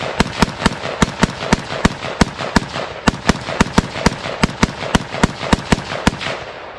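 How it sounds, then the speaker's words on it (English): Gunfire at a shooting training facility, a rapid series of sharp, evenly spaced shots ringing out in steady succession, loud and without voices. "hopefully you won't have to put up with too much gunfire in the background"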